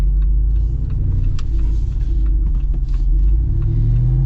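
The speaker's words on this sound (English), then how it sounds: "Got that aggressive V8 rumble, which I really appreciate." A 2025 Jeep Wrangler Rubicon 392 V8 idles with a deep, steady rumble, loud and close, with low throbbing pulses and no talk.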